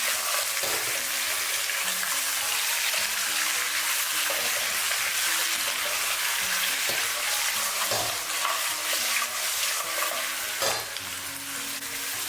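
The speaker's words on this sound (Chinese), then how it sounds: "这个时候我们就可以把鸡腿倒进来，用铲子快速的给它翻炒，使每一个鸡腿都能裹上均匀的糖色" Chicken drumsticks tossed in hot caramelized sugar with a spatula in a wok: a loud, continuous sizzle and frying hiss with repeated scraping stirs and clinks throughout, no talking.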